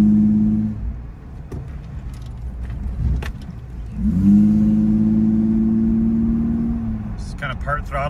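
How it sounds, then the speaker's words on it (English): A Toyota 4Runner with a 5VZ-FE V6 cruises at part throttle around a parking lot, its engine drone steady and close, dipping briefly mid-clip before settling back into an even hum. "Just kind of part throttle cruising around."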